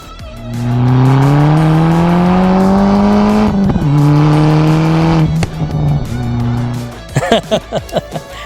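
A car engine revs hard and holds a loud, droning exhaust note, dips, climbs again, then drops to idle followed by a few sharp pops.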